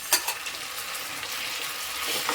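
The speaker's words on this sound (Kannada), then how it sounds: "ಆನಿಯನ್ಸು, ಅಲ್ಲಿವರೆಗೂ ಚೆನ್ನಾಗಿ ಫ್ರೈ ಮಾಡ್ಕೊಳ್ಳಿ" Onions and garlic frying in a pan with a steady, soft sizzle, a light stir or clink near the start, no talking.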